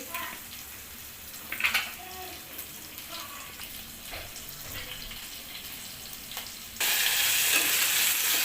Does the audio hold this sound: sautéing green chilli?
yes